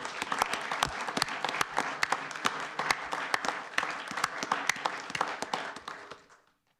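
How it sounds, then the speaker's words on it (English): A crowd applauds steadily at a village board meeting with dense, sustained clapping, fairly close, before it tapers off and fades out at the end. "So if you join me in a round of applause for Joe and Lou."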